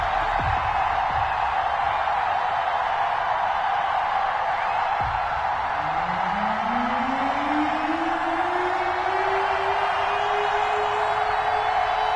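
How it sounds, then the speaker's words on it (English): Stadium crowd in an EA Sports NFL video game before a Bengals–Colts matchup, a steady dense wash of crowd roar at moderate loudness, with a rising whoosh-like tone sweeping up partway through and a few low thumps early on. "This crowd is ready as their guys get set to match up between the Cincinnati Bengals and the Indianapolis Colts"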